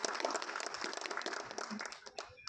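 A small audience at a film promotion event claps in a brief, moderately loud burst of applause that tapers off toward the end.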